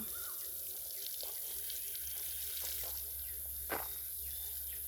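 Water pours and splashes steadily onto garden plants during watering, a continuous hiss with a few faint drips and knocks, close by and fairly quiet.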